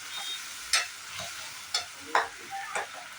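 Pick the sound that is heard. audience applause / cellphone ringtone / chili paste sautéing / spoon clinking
chili paste sautéing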